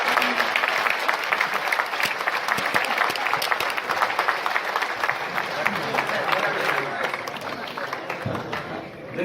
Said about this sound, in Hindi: आप सब हमारे कुंबे के सबसे आदरणीय व्यक्ति के लिए जोरदार तालियां बजाकर आप उनका स्वागत करें।